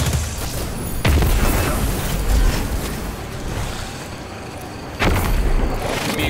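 Grenade blasts in the Destiny 2 shooter, two loud booming explosions roughly four seconds apart, each with a sharp onset and rumbling tail over dense battle noise.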